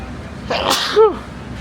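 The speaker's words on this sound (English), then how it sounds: "I'm sneezing." One close sneeze with a breathy burst followed by a short voiced tail, over a low background hum.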